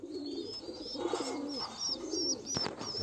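Pigeons coo softly and repeatedly at a pigeon farm, overlapping low rolling calls close by, with a few higher chirps mixed in.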